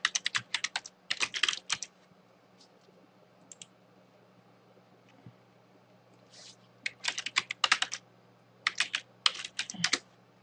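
Computer keyboard typing comes in quick clustered bursts separated by pauses as a folder name is entered, close and clear with no talk.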